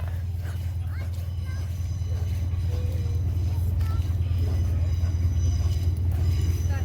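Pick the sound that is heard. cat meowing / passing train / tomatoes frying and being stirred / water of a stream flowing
passing train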